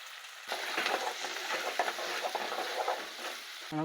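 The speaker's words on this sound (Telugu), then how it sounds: "మనకైతే ఉల్లిగడ్డలోను మిర్చి ఫ్రై అయినాయండి" Onions and green chilies frying with curry leaves in hot oil for an egg curry, a steady close sizzle with scraping stir strokes throughout, no voices.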